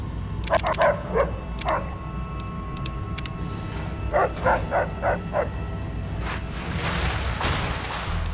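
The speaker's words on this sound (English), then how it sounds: "Dog." A dog in the Fallout New Vegas video game barks in several short, sharp bursts, first a quick cluster and then a rhythmic run of yips, over a low ambient game hum with no speech.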